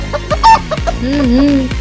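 A hen clucks in quick, close bursts, then draws out a wavering, drawn-out cackle, loud and near.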